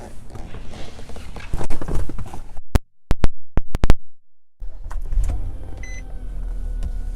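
A power moonroof motor on a 2017 Nissan Maxima runs in the cabin: a steady electric whir, then a few sharp clicks and knocks as the dual panels stop, before the motor hums again.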